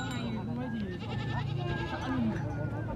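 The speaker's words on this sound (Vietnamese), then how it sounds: "đây là khu vực chợ dê các bạn, chợ Cung Ly, xã Cung Ly, Bắc Hà, Lào Cai." Goats bleat repeatedly at a goat market in Cung Ly, Bac Ha, Lao Cai, their wavering cries layered over steady crowd chatter and someone talking nearby.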